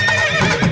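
A white horse gives a short, loud, close neigh with a quavering whinny lasting under a second, heard in a devotional folk song.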